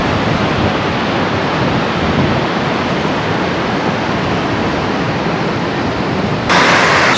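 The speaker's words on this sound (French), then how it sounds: "L'océan est déchaîné ce matin." Loud, steady roar of rough Atlantic surf crashing continuously at Les Sables-d'Olonne, broadband and relentless, with a brief gust of wind noise near the end.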